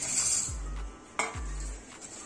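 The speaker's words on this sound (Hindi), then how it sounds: "इसमें अब हम अपनी सारी बूंदी को इस तरीके से मिला देंगे" Boondi is stirred into sugar syrup in a pot. A spoon scrapes and knocks against the metal pot a couple of times, soft and close, with no talking.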